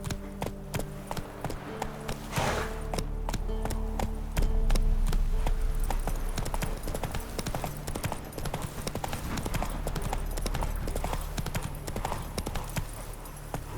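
Roach, the horse in The Witcher 3 game, gallops with rapid, rhythmic clip-clopping hooves that run steadily throughout, with a brief breathy whoosh early on.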